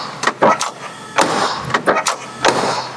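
Several sharp thumps and latch clicks from the door of a 1968 Chevrolet Camaro Z/28, close by and spread over about three seconds, with no talking.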